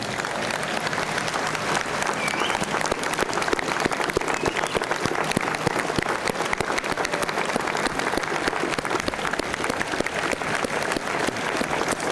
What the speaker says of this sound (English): give a vibrant round of applause for Aunt Julia